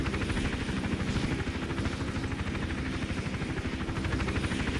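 Helicopter in the game Hitman: Absolution, a steady loud rotor thump chopping continuously overhead with no pause and no voices.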